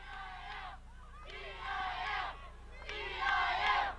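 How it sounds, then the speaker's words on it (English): The home crowd at a girls' CIF high school soccer final chants in three loud, rhythmic shouted bursts, the massed voices rising from a distance across the stadium with a steady low rumble between them. "you can hear the Valhalla crowd just shouting, CIF"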